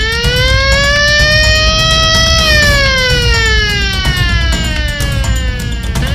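In an animated cartoon, a car following behind carries a loud wailing siren that rises and falls in long sweeping tones, continuous and close throughout with no talking.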